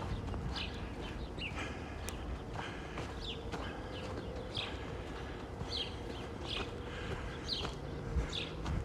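Scattered bird calls and short chirps at intervals, fairly faint, over steady outdoor background noise and footsteps on a neighborhood walk in Regina in late March.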